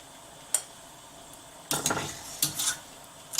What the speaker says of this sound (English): remove it from this boiling water, place it in a bowl or another container, and set it aside